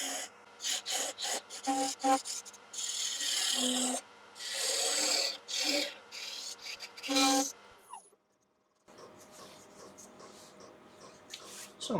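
Wood being shaped on a lathe during multi-axis turning, with repeated rasping, scraping passes of the tool in uneven bursts and short pauses, close and moderately loud, ending in a quieter, steadier hum.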